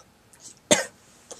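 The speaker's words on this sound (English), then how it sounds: "Excuse me for that cough." A single short cough, close and fairly faint, after a brief breathy lead-in, with a small throat sound trailing just after, against near silence.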